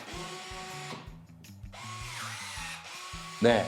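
A Klauke EKSD50ML battery-powered cutting and stripping tool works through electrical cable, giving repeated short motorized whirring bursts in a steady rhythm, close and moderately loud, with a sharper click near the end and no talking.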